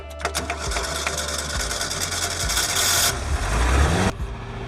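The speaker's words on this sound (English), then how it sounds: "How to start a Kombi with a hammer." Rapid metallic hammer tapping against an idling Volkswagen Kombi engine, a steady mechanical clatter that grows louder and busier before cutting off abruptly near the end.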